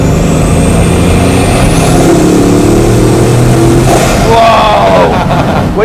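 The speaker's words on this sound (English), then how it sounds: "When you accelerate more, you really get the intake of the engine" A Bugatti Mistral hypercar engine roars loudly as it accelerates, its deep growl and intake noise climbing in pitch, with passing traffic noise around it.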